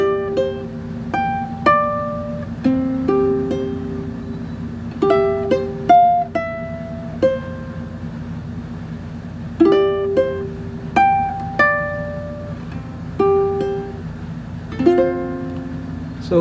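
Ukulele picking a fingerstyle melody, single plucked notes and small chords ringing in a steady, unhurried rhythm over a low sustained hum, close and clear with no talking.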